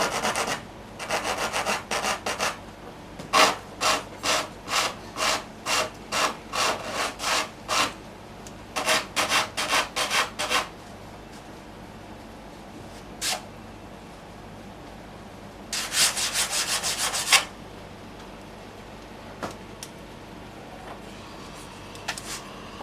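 Fine-grit sandpaper, around 180 to 240, rubbed by hand along a wooden piece in quick bursts of short strokes separated by pauses, close up and fairly crisp with no talk.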